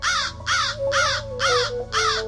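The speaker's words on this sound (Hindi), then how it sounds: "एक कौवा जोर जोर से बोल रहा था," A crow caws loudly and close by, five harsh calls evenly spaced in quick succession, alone, with no other sound.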